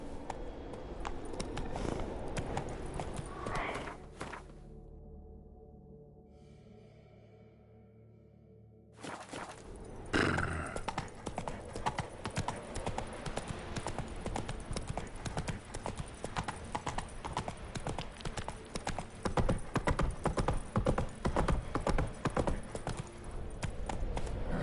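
Roach, the horse in The Witcher 3, running with a fast, even clatter of hooves close by. The hoofbeats break off briefly into a quieter lull, then resume at full pace.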